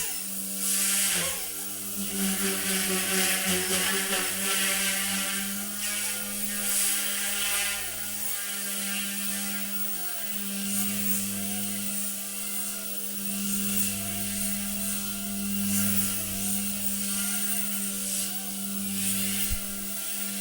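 An OMP M1 RC helicopter hovers and lands using throttle hold, its small electric motor giving a steady high whine with rotor buzz that holds close and constant, wavering slightly in pitch.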